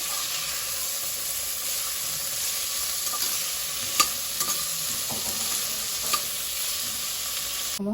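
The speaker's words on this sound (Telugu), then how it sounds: "ఉల్లిపాయలన్నీ బాగా ఫ్రై చేసుకోవాలి" Chopped onions fry in a pan for Karnataka-style vangibath, giving a constant loud sizzle with occasional light clicks and scrapes from stirring, and no voices.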